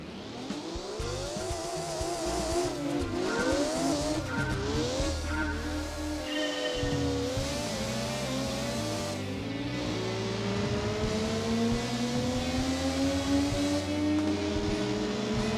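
A Mitsubishi Mirage races around Laguna Seca Raceway in Gran Turismo 2, its engine whining loudly through repeated rising revs and gear shifts, with brief tire squeals, heard alone and continuous.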